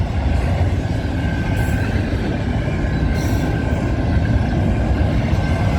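A CN freight train with a BC Rail DPU rolls past at night, a loud, continuous rumble of wheels on rail with a faint squeal running through it and no voices.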